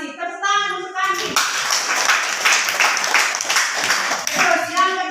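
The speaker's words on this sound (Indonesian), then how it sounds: "Tepuk tangan untuk Kandi." Classroom students clap together in a short burst of uneven, close hand claps, with a voice speaking just before and again as the clapping ends.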